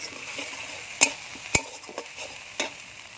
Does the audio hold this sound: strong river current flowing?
no